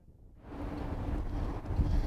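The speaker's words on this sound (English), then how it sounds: "this wind that we're seeing out here is amazing" Strong wind gusts outdoors, rising quickly from near silence into a steady, rushing roar with heavy low buffeting on the microphone, lasting only a couple of seconds.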